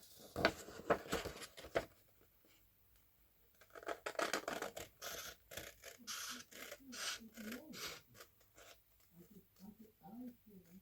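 Scissors cut round a piece of paper for a journal craft, giving crisp snipping and rustling bursts in two clusters, with a quiet voice talking between the cuts.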